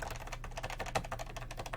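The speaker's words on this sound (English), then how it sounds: "fairly nice feeling keyboard, a little bit spongy." Keys are pressed in quick, uneven succession on the slightly spongy keyboard of an Apple PowerBook 140 laptop, giving soft, close clicks and taps at a low level.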